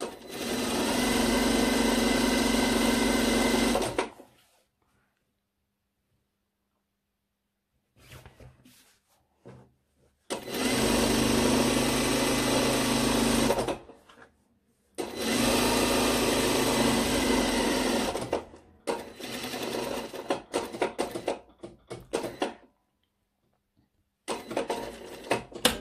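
A domestic sewing machine stitches the back seam of a skirt in bursts of steady, close, loud whirring runs, about four to five seconds each, split by pauses and small handling clicks.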